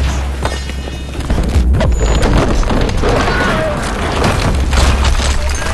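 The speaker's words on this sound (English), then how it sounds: "Nearby explosions rock your ears." Booming explosions and crashes roll on continuously, loud and close, in a chaotic battle din in the video game Battlefield: Bad Company 2, with some talking mixed in.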